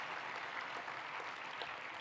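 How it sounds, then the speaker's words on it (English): An audience at a conference plenary claps steadily, a dense, even patter of many hands at moderate volume with no voices over it. "so you can also applaud them"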